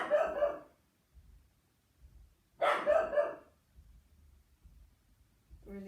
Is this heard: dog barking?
yes